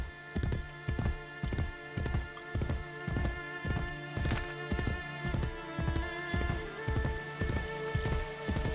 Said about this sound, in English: Let me just get back on the horse.